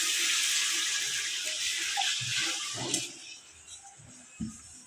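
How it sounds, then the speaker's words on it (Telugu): Water is poured into a cooking pot of browned mutton curry, a continuous rushing splash that fades toward the end. A few soft knocks follow and no one talks. "ఇప్పుడు నీళ్ళు పోసేస్తున్నా."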